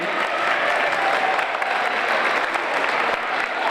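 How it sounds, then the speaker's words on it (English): An outdoor crowd at a preschool derby gives a sustained round of applause for a guest governor, thick continuous clapping from many people at a steady, fairly loud level with a faint murmur beneath. "Can everybody give a large round of applause for Miss Sharon?"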